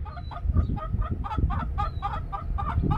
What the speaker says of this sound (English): really nice looking chickens